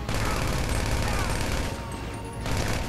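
Rapid submachine gun fire in GTA 5 online gameplay, a dense, loud burst of continuous shots that briefly thins near the end before resuming, with no speech.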